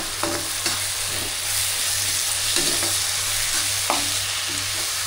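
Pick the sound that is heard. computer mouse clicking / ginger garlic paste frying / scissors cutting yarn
ginger garlic paste frying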